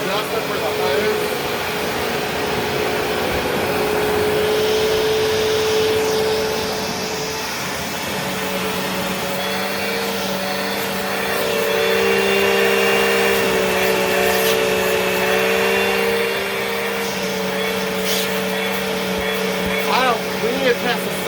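A vacuum cleaner runs continuously for a suction test, a loud steady whine with shifting tonal pitch as the hose is adjusted, with people talking faintly underneath.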